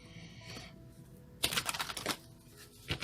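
Tarot cards being shuffled, quiet crisp riffling bursts, one longer flurry in the middle and a short one near the end, with faint background noise between.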